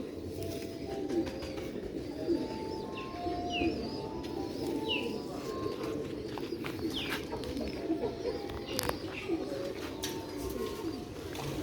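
Sialkoti pigeons, adult hens, cooing in soft, repeated low calls with occasional chirps and a brief wing flutter, close by against a constant background hum.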